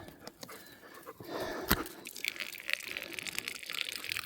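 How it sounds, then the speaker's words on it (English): Dogs lapping water from a bowl or tap during a walk, with quick wet slurps and splashes close by, then fainter drinking noises continuing. "Good boy, drink the water."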